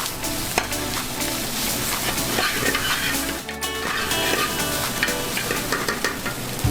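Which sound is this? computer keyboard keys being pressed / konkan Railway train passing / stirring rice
stirring rice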